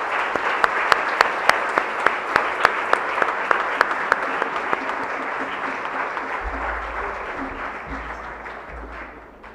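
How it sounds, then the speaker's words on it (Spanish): Congregation at a cardinal's jubilee Mass applauding the priest, crisp rhythmic claps standing out over a broad wash of clapping that slowly fades, with a low hum entering late. "Damos un aplauso a nuestro sacerdote."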